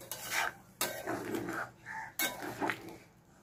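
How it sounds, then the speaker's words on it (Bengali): A spoon scrapes and clinks around a pan of paneer curry with cashews that is catching on the bottom, in several distinct stirring strokes separated by short pauses. "এবার ভালো করে নাড়তে হবে।"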